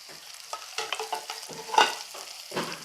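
Shallots and onion frying in a pan with coconut, garlic and ginger, a close, moderate sizzle broken by repeated scraping stirs and one sharper clatter near the middle.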